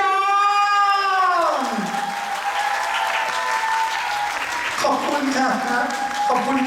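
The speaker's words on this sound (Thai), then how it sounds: "ขอเสียงปรบมือ" Applause from a crowd at a Bangkok fan meeting press event for a Korean actor, broad clapping running beneath a sustained sung or amplified tonal melody and a voice over the sound system.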